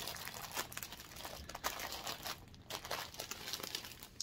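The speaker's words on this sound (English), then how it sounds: "Sorry about the crinkling." Packaging crinkles in soft, irregular bursts of rustling and crackling, quiet and close, with short pauses between handlings and no talking.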